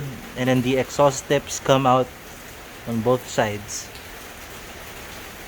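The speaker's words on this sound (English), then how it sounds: "It started raining so hard." Heavy rain pours steadily as a constant hiss behind nearby speech, with someone talking through most of the passage.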